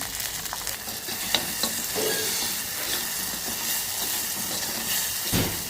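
Cumin seeds, curry leaves, chillies and turmeric sizzle steadily in hot oil for moong dal tempering, a continuous close crackling hiss with a few sharper pops and stirring scrapes, no talking.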